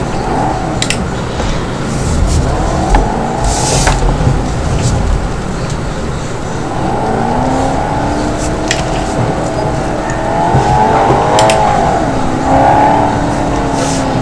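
Supercars in BeamNG.drive accelerate hard, engines rising and falling in pitch through repeated revs and gear changes, loud and close, with faint clicks over the steady engine drone.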